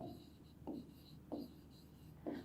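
A pen or marker writes a short word on paper or a board, four quick squeaky strokes spaced about a second apart, close and quiet with no talk.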